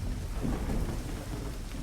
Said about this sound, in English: This storm came out of nowhere.